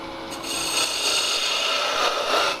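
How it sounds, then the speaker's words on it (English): A bowl gouge cuts into wood spinning on a lathe while roughing out a spin top, giving a continuous close scraping hiss that swells and holds steady over a few seconds, with no talk. "just take a bowl gouge and get rid of the wood fast"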